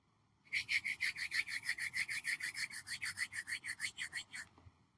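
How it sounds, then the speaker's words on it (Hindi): Two palms rubbed briskly together in a yoga session, a steady run of about twenty even back-and-forth swishes lasting around four seconds, close and moderately loud with no talking. "अपने हथेलियों को आपस में रगड़ें।"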